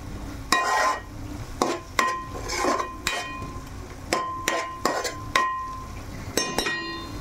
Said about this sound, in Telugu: టమాటా పేస్ట్ అయితే మనకి వేగుతుంది కదా, దాంట్లోనే మనం పచ్చి మసాలా కూడా వేసేసుకుందాము